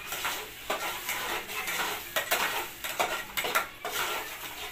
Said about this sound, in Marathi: चला, आता आपण अगोदर मसाला सगळा फ्राय करून घेऊ छान असा